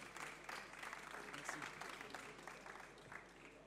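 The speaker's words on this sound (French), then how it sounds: "On applaudit Paul." Audience applause at the VR & AR Awards ceremony at Laval Virtual 2018: a large, steady crowd clapping in a hall, moderately distant and sustained throughout.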